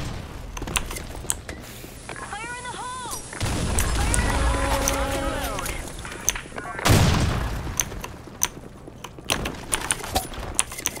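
A grenade explosion in the shooter game Blackshot, one loud boom partway through amid scattered gunshots and game noises, with a voice calling out over the action.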